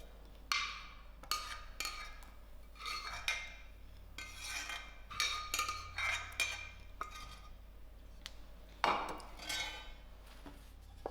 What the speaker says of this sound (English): And give this a good mix.